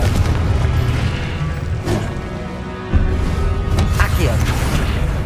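A Confringo blast spell in the Hogwarts Legacy game erupts as heavy, rumbling booms within a dense, loud wash of combat noise, with a voice-like sound mixed in and a sharper burst near the middle.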